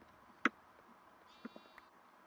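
Sheep bleats in a Minecraft Sky Block game: one sharp, fairly loud bleat near the start, then a few fainter short bleat-like calls about a second later, over a quiet background.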